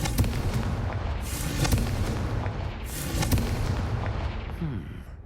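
A Confringo blasting spell in Hogwarts Legacy sets off a string of booming explosions with sharp cracks and rumbling bursts, loud and continuous, one bigger blast standing out near the middle.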